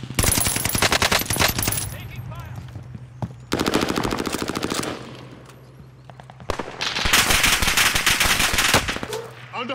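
Automatic gunfire in Call of Duty Warzone Pacific on the Caldera resurgence map, with three loud, dense bursts of rapid shots separated by short lulls and a steady low hum underneath.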